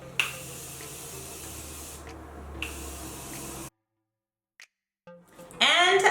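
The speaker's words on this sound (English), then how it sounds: "Now we're gonna go in and spray our face with the Morphe Prep and Set." Morphe Prep and Set setting spray misted onto a face, a steady fine hiss held for several seconds with a short pause between bursts, followed by silence.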